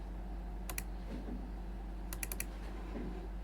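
A computer mouse gives two quick pairs of faint, sharp clicks over a steady low hum, with a short triple click near the end, heard close and without talk.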